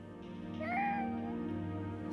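An animated cat's drawn-out meow rises and falls in pitch over a couple of seconds against a steady background hum, with no voices during the call.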